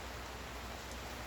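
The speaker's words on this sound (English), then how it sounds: "It's been raining since about, I don't know, midnight last night, and it ain't let up yet." Steady rain falls outside a shop, a soft, even broadband hiss with no individual drops standing out, faint and constant throughout with no voices.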